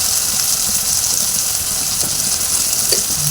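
Curry leaves, onions and ginger-garlic paste fry in hot oil in a pan, giving a steady close sizzle with light stirring scrapes throughout.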